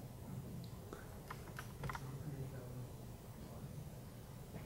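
Computer keyboard typing comes as a few scattered soft key clicks, faint beneath a steady room hum with some murmured talk.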